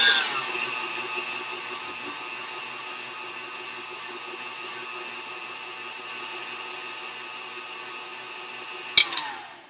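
An electric mixer whirs steadily at high speed through banana chocolate protein muffin batter, a constant close-up motor whine that stops abruptly with a brief clatter near the end.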